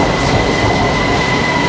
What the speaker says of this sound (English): Here comes the train on the other side.